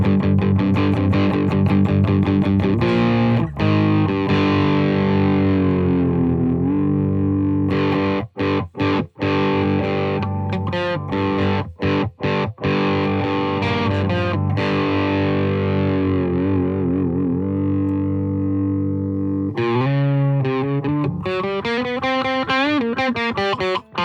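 An electric guitar plays through a Marshall DSL distortion pedal with the gain turned down for a rock tone, giving loud, sustained distorted chords and riffs with brief gaps between phrases.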